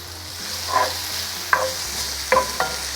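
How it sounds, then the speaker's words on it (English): Onions and peppers fry in a pan for shakshuka, a soft steady sizzle broken by a few distinct scraping stirs of a utensil against the pan, close and clear with no talking. "Give our onions and peppers another stir."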